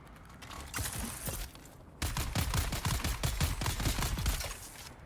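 Rapid gunfire bursts from the video game Dune Awakening, a dense clattering volley that steps up sharply partway through and continues as fast, repeated shots with mechanical clicks.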